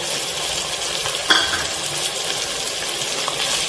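Masala paste fries in a pan for a fish curry, giving a steady, close sizzle throughout, with a single sharp clink of a utensil against the pan partway through.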